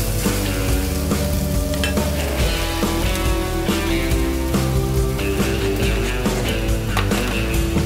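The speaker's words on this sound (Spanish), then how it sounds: "llevamos esto al fuego y vamos a darle vuelta a nuestro pollo a ver cómo va" Chicken pieces frying in a pan on the stove, a loud continuous sizzle with repeated scraping and clattering as the pieces are turned, under faint background music and no talk.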